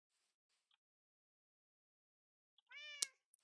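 A cat in Minecraft gives a single short, clear meow near the end, after faint scattered sounds and a long silence.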